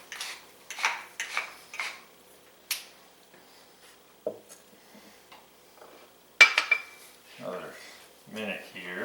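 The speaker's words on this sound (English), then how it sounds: "Let me kind of stirring it around and making sure" A spoon taps and scrapes a pot in short, spaced bursts while smashed potatoes with melting cream cheese and butter get stirred. Someone talks in between.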